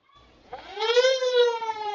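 A fire department truck's siren rising and wailing at a hometown homecoming parade, swelling from a low start into a loud, steady sustained tone.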